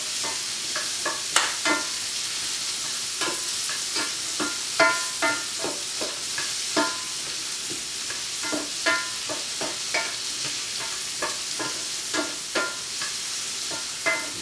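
Onions frying in a pan alongside pork steak, a loud continuous sizzle broken by frequent crisp spatula scrapes and stirring knocks in an irregular rhythm, heard up close with no talking.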